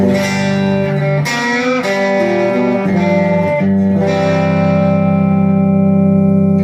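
Electric guitar plays a bluesy rock lick with bends and sustained notes, overdriven with a touch of echo, loud and close, no talking.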